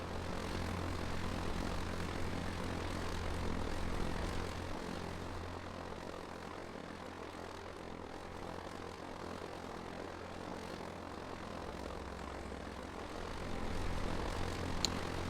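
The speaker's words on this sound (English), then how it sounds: "Yeah, Predator drone should be good enough." A Predator drone in a military video game, its propeller engine droning as a steady low hum with a broad rushing wash, continuous and even throughout, swelling slightly near the start and end.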